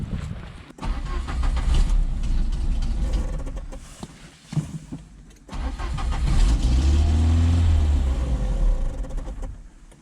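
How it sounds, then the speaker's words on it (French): A Peugeot 205 CTI engine is cranked and catches, sputtering through a couple of uneven start attempts before settling into a rough, rising idle that stays close and loud. "Et là maintenant on va aller refaire un essai de démarrage."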